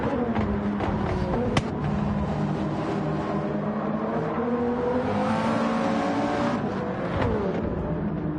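Toyota Supra race car in Gran Turismo 7 racing at Laguna Seca, its engine droning loud and steady with rising and falling pitch through gear changes and a brief sharp click, running continuously without break.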